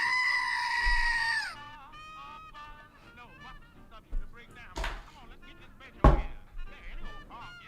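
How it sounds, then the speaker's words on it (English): A small squeeze toy shaped like a goat gives a loud, drawn-out honking scream when pushed down, ending abruptly, followed by people talking and laughing, with a couple of sharp bumps. "It's a little goat, and it looks like there's sound associated with it."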